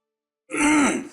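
A man clears his throat once in a short, rough, guttural burst that starts sharply and fades slightly, heard close and alone.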